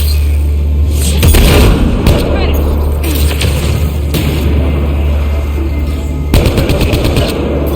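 Automatic turrets fire in the game Mass Effect Legendary Edition, delivering rapid bursts of gunfire and booms in several clusters over a steady low rumble. Voices talk intermittently through the shooting.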